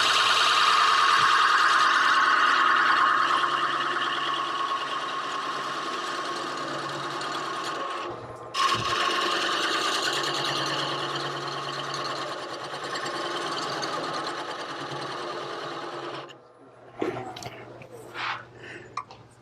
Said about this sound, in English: I'm going to use a skew with the long point down and just make a planing cut.